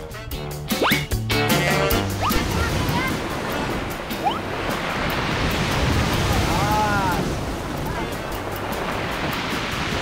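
Ocean waves surge and wash up on a seashore where people gather seawater for salt, a loud continuous roar of surf with splashing and wind buffeting, and voices briefly at the start.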